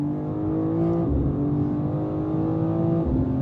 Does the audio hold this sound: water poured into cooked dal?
no